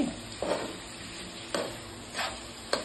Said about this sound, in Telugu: చికెన్ బాగా మగ్గుతుందండి. ఫ్రై డీప్ ఫ్రై అవుతుంది.